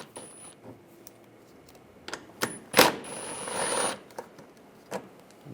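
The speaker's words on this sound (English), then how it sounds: "we'll take this shield off using an 8mm socket. Take these bolts out" An 8mm socket wrench removes bolts from the lower shield of a 2006-2009 Mercedes-Benz E350 with scattered metallic clicks and taps. A longer ratcheting whir follows midway, all quiet and close in a still space.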